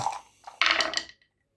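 Three dice rolled during a Memoir '44 board game tumble onto a hard surface, giving a brief, bright clatter of rattling impacts after a short quiet pause, with a tiny last tick as they settle.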